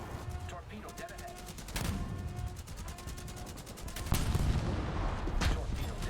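Rapid volleys of warship side guns in a naval battle video game, bursts of repeated firing with heavier booms near the middle and end, under a speaking voice.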